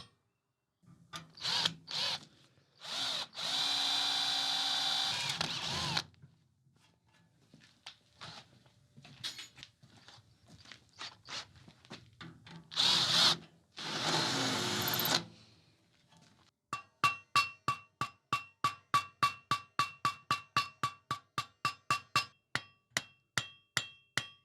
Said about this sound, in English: And so that's where we drill our next hole